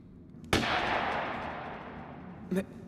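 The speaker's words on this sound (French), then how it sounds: "Des coups de feu! C'est ça! Ce sont des coups de feu!" A single loud gunshot cracks and echoes away slowly, followed about two seconds later by a shorter, fainter second shot.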